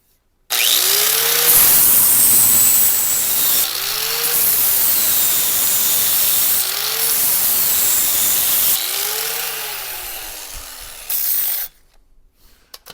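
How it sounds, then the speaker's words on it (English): A power tool sharpens Cub Cadet Ultima ZT1 zero-turn mower blades with a loud, steady grinding whine that repeatedly dips in pitch as the tool bites into the metal, then cuts off near the end. "let's give these blades a quick sharpen"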